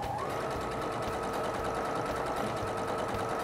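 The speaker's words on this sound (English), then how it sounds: "And you follow along with your seam allowance. And you're going to sew along one side." A sewing machine stitches along a seam through two layers of fabric, a steady, continuous mechanical whir with an even rapid needle rhythm, close and alone.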